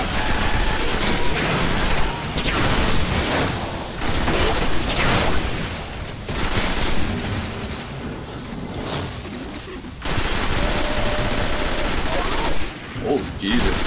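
Fast-firing gun in Destiny, a Titan battling the Gate Lord boss, unleashing dense, sustained bursts of rapid gunfire with brief pauses between volleys, loud and close, with occasional speech underneath.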